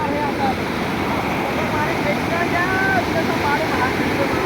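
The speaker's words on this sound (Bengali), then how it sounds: "তো এখন দেখো জলগুলো কি অবস্থায় ঢুকছে" Floodwater roars steadily through a breached river embankment, a loud, unbroken wash of rushing water with faint voices underneath.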